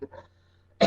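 A girl gives a short, rough cough, with a couple of faint throat sounds followed by a louder burst at the very end.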